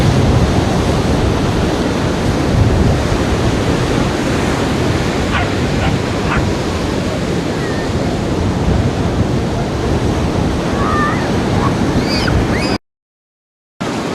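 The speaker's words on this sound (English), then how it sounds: "the waves crashing there over the end of that cliff" Waves crashing against the end of a cliff on the North Cornwall coast, a continuous loud roar of surf with rumbling, wind-buffeted noise, steady throughout, with a brief dropout near the end.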